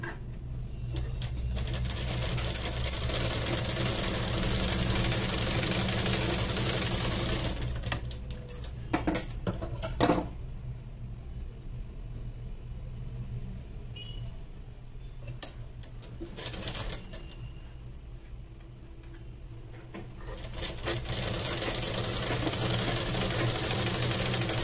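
A sewing machine stitches a blouse in a long, fast, steady mechanical whir that pauses briefly around the middle before resuming, close and continuous with no talking.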